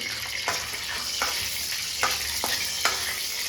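Cashews sizzle in hot ghee for semiya payasam, a steady crackling fry broken by several sharp scraping strokes of a spoon stirring the pan.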